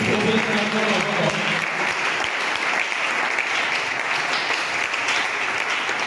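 A church congregation applauds and cheers for Jesus Christ during a French-language sermon, a dense, steady wash of clapping that holds loud and even from start to finish.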